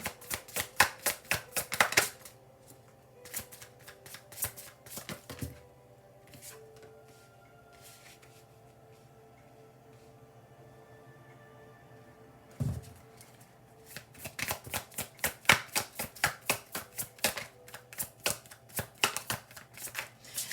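Tarot cards being riffle-shuffled in quick crackling bursts, one flurry at the start and a longer run near the end, separated by a quiet stretch.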